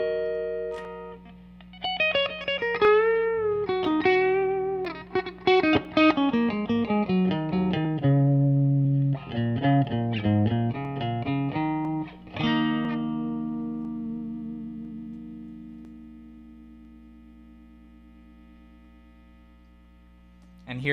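An electric guitar with single-coil pickups is played through a Marshall DSL40 amp on the classic gain channel at maximum gain, a distorted run of chords and riffs ending in a long sustained ring fading over a steady background hum.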